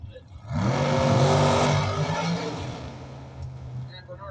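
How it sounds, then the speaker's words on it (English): A 1968 Chevrolet Camaro Pro Mod drag car launches down the dragway with a loud, rising engine roar that peaks and then fades into the distance, heard from the stands over a talking voice. "Vinny 4K coming out of left-hand side, the 68 Camaro Pro Mod"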